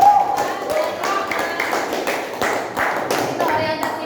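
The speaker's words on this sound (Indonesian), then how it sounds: "Boleh tepuk tangan dulu ya" Classroom applause from students at the close of a lesson, a run of loose, uneven hand claps lasting several seconds, fairly close and moderately loud over murmuring voices.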